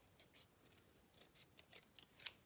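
Scissors snip a piece of paper in a run of quick, crisp, uneven cuts, close and fairly quiet, with no talking.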